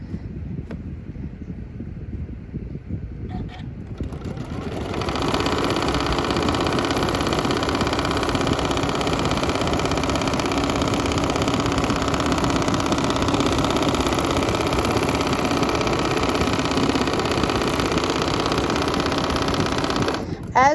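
Sewing machine free motion quilting through a T-shirt memory quilt, a steady, fast mechanical whir that kicks in after a few quiet seconds and runs without pause, close and fairly loud.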